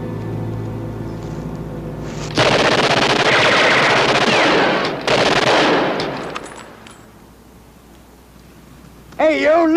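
Machine gun fire in a 1964 episode of the Second World War TV drama Combat!, loud sustained bursts of rapid automatic gunfire with a short break, fading to quieter background before a voice cuts in at the end.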